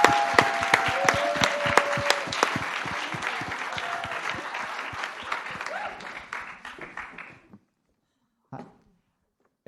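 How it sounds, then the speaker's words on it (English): Audience applause for a presenter at a pitch contest, loud crisp individual claps up front over a crowd's clapping that thins out and stops after about seven seconds, followed by near silence and a brief sound. "give a big applause for Rovigos"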